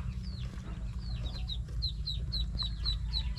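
Hens cluck in a run of short, repeated calls over a steady low background hum, the clucks fairly close but not loud.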